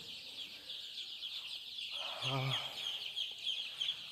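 Chickens in a poultry brooding shed with rice-husk bedding, a single close cluck rising midway over a constant high hiss, with soft background clucking around it.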